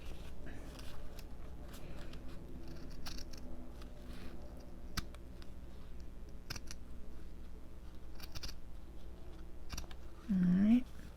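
Scissors cut a decorated gypsy signature cover, giving faint, scattered snips and clicks close by over a quiet background, ending in a brief louder rustle.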